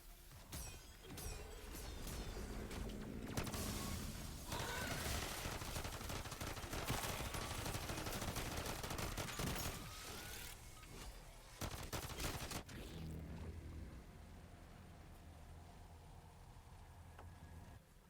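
Gunfire against zombies in MW3 Zombies rattles in dense, rapid bursts that overlap for about twelve seconds, then thins to a few scattered shots and mechanical clicks over a low hum.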